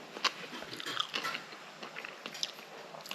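Crisp bites and chewing of crunchy green papaya salad, a Thai somtum with tomato, come close to the microphone in short irregular bursts with no talking.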